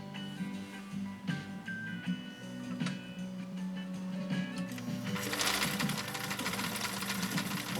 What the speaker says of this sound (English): We're sewing stitch number 4.